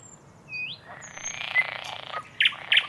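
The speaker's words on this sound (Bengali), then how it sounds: "লাল মেঠো পথ দিয়ে যেতে যেতে পাখিদের আওয়াজ শুনতে ভালোই লাগছিল" Birds chirp along a red dirt path in Mahabaleshwar: a thin whistle early on, then two sharp, bright chirps near the end, heard over a steady outdoor rustle.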